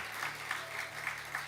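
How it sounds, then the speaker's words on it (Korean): A church congregation applauding during a Sunday worship service, a brief burst of many hands clapping together, steady and fairly soft with rhythmic swells. "우리 예수님께 우리 감사의 박수, 영광의 박수 올려드립니다"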